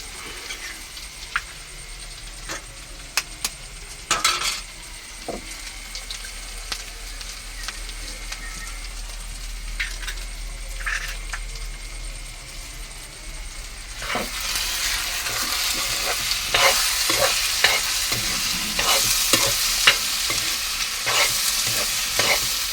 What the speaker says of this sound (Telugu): ఇప్పుడు ఇందులోకి 2 గుడ్లు చితగొట్టేసేస్తున్నాను.